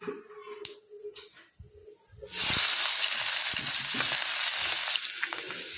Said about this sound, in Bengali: পেঁয়াজ কুচিটা একটু ভেজে নেব হালকা লাল লাল করে